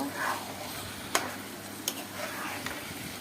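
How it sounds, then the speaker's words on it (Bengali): Rice is stir-fried in a pan, giving a steady soft sizzle and scraping broken by a few sharp clicks of a utensil against the pan, all close by and with no voices. "চাল দেওয়ার পরে ভালো করে একটু কষে নিব।"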